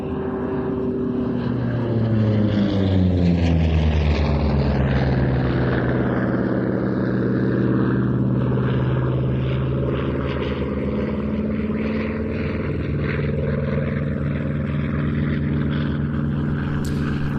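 A propeller warbird flies past at an airshow, its loud, droning engine and prop rising and falling in pitch as it sweeps through, steady and continuous, with no voices.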